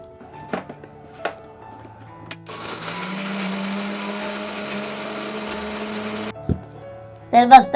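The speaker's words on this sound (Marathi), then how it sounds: "तर इकडे ना सर्व मिक्सर मध्ये आता एक एक गोष्ट घालून घेतोय. पूर्ण आपल्याला ना बारीक करून घ्यायचं आहे सर्व." A mixer grinder dry-grinding coconut masala with no water whirs loudly and steadily for about three and a half seconds, then stops, with a few knocks and clatters before and after.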